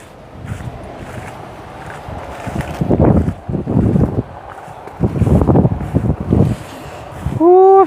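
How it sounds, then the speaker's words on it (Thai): Cool wind gusts outdoors on a chilly January day, buffeting the microphone in loud, rumbling surges that rise and fade several times, ending with a brief higher tone. "ลมเย็น"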